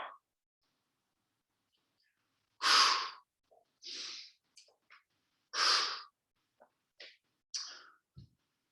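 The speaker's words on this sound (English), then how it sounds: "Inhale, exhale, right? Inhale, exhale." Breathing during a yoga knee thrust core exercise: several loud, close breaths in and out, with forceful exhales in an uneven rhythm and short quiet gaps between them, and no talking.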